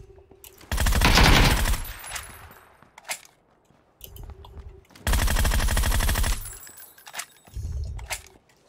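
Automatic gunfire in PUBG, several loud close bursts of rapid shots separated by short pauses, with occasional single cracks and footstep-like clatter between them.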